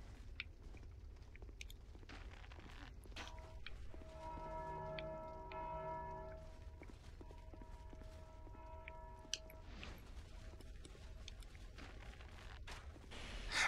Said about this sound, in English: Someone is ringing those bells.